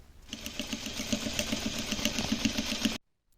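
Sewing machine stitching the upper seam of a fabric Christmas stocking, a steady fast rhythmic needle chatter running close and loud for about three seconds before stopping abruptly.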